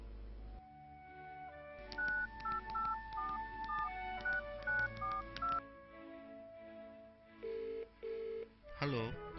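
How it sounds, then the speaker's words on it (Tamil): Someone dials a phone number on a keypad, and a quick run of beeping tones plays one after another. A sustained tone and a few ringing tones follow. "சரி, ஏதாச்சும் ஒரு நம்பர் போட்டு யார்கிட்டயாச்சும் பேசுவோம்"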